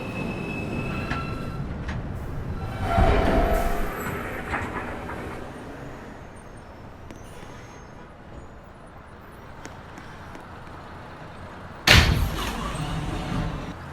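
An R160A E subway train at Fairview Avenue station: rumbling arrival and departure with rolling wheels and a door-area clunk, the sound rising and fading, then a sharp loud noise near the end.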